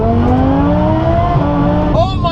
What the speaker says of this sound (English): All right, I haven't floored this car in a while.